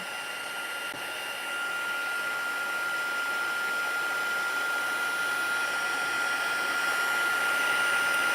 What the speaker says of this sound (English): So now I'm just going to heat set this.